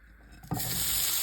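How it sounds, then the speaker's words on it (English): Broccoli hits a hot, dry pan and bursts into a loud, steady sizzle that begins abruptly and continues without pause. "you should have a good sizzle. You're going to stir fry this broccoli without anything in it."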